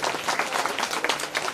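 A crowd at a temple festival gathering claps loudly and steadily in a brief burst of applause, close and even throughout.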